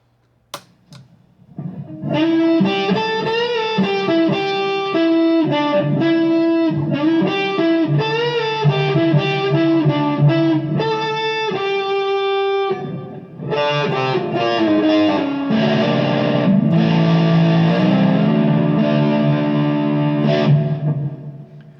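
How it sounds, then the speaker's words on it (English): An electric guitar played through a MoVoll Absolute Zero fuzz pedal, thick and buzzing, runs through a sustained melodic riff with a short break midway. "I think you could use it as a distortion as well as fuzz"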